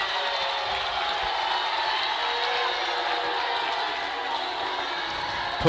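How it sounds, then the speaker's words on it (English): A home crowd at a boys' high school basketball game voices displeasure at an overturned call, a sustained, fairly distant wash of crowd noise that holds steady throughout. "Hear through our microphones the displeasure of the home crowd with that call being overturned"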